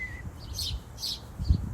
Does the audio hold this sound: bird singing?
yes